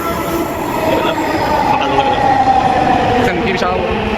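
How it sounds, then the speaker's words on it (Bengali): A Dhaka metro rail train pulls into a station, a steady loud rumble with a drawn-out wheel squeal rising through the middle and continuing to the end, with a voice faintly audible beneath. "এই যে আমাদের ট্রেন এসে পড়েছে"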